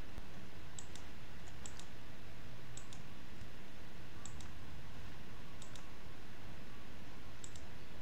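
Computer mouse clicks while working in SketchUp 2022: sparse, light, close clicks, some in quick pairs, spaced a second or so apart over a steady background hiss, with no talking.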